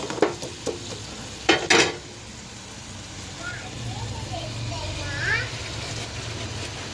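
Utensils scrape and clink against a pan while tomato rice is stirred, with a faint sizzle underneath and a person talking over it.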